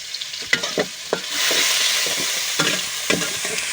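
A large spatula stirs food frying in a pan, scraping in quick repeated strokes over a constant close sizzle. No one speaks.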